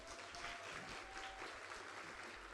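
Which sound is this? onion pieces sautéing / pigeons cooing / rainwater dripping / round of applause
round of applause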